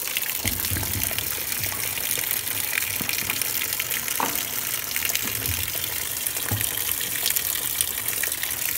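Cold tap water gushes and splashes into a rinse tank in a garage workshop, a continuous close, loud rushing flow with small irregular spatters.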